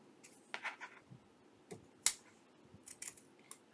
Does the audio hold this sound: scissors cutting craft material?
yes